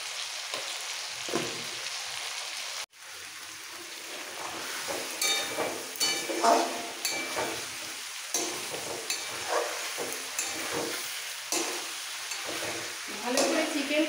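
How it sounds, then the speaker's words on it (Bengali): Chicken being stir-fried in a pan, a soft continuous sizzle broken by intermittent stirring and scraping sounds, with a sharp knock near the start. "ভালো করে চিকেন কষানো হয়ে গেছে"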